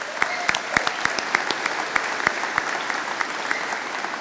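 An audience at a commencement ceremony applauds honors graduates, a steady, moderately loud wash of clapping with sharp individual claps poking out regularly throughout.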